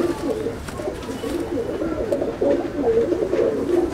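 Pigeons coo steadily and fairly close in a loft of Chennai breed birds, soft overlapping throaty calls rising and falling over a low room hum, with no talk.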